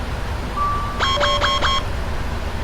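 Cockpit warning alarm in the PMDG 777-300ER airliner in FSX, heard as a steady tone joined by four quick repeating electronic chimes in a rhythmic burst, loud and clear over a low background hum.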